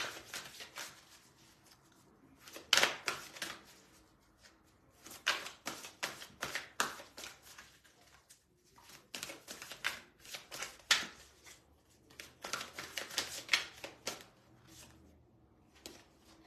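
Tarot cards being shuffled in repeated quick riffling bursts, close and crisp, with short pauses between rounds and no talking.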